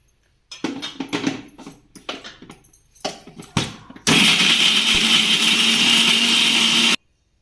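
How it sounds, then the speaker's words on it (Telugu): An electric mixer grinder grinding tamarind and jaggery for ginger pickle: a few short pulsed bursts, then a loud, continuous whirring grind for about three seconds that cuts off abruptly. "ఇది ఓన్లీ ఫస్ట్ చింతపండు వేసి మిక్సీ గ్రైండ్ చేయండి"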